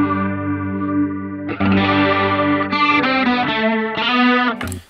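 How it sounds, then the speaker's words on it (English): A Line 6 Helix chorus effect in single mode switches on and off over sustained guitar-style tones, the sound thickening and shimmering when engaged, loud and close with no talking. "If you prefer to have a traditional chorus, pick single."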